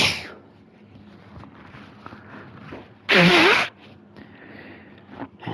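A single sharp, loud sneeze from a character in The Dark Pictures Anthology: House of Ashes bursts out over a quiet, murmuring background.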